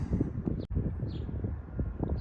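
Steady wind rushes and buffets the microphone outdoors beside a beehive in Jefferson City, a continuous low roar with a brief dropout partway through.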